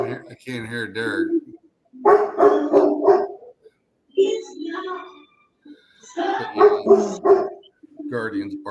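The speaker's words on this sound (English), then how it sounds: "The dogs keep barking." Several dogs bark on and off in clustered bursts while people talk, the barking loud and close, stopping for brief gaps between rounds.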